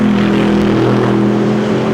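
An Audi race car driven by Filipe Albuquerque at Spa-Francorchamps, engine droning loud and steady at speed with a smooth continuous tone and no voices.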